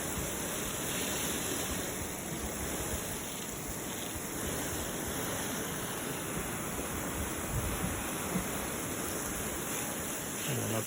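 A garden hose sprays a steady broadband hiss of water across a home garden, soaking the ground around lemon and lime trees; the rush is continuous and close, with no talk.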